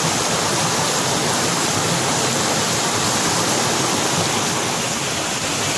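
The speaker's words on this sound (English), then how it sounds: "Lovely to hear the water, sound the water so nice." A small stream in Kruger National Park flows with a steady, unbroken rush of water, close and fairly loud, with no voices over it.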